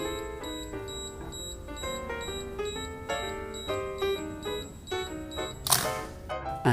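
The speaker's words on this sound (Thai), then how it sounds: "กดลั่นชัตเตอร์ เขานับถอยหลังให้ประมาณ 10 วินาทีครับ โดยจะมีแฟลช LED กระพริบด้วยพร้อมกับเสียงปี๊บๆต่อเนื่อง" An Olympus OM-10 film camera's self-timer counts down with a run of evenly spaced electronic beeps, close and clear, ending in a sharp mechanical shutter click near the end.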